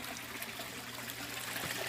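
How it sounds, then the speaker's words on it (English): Water drains steadily out of a flood and drain aquaponic grow bed, a continuous soft trickling stream with no talk over it. "you can also see where the water drains out"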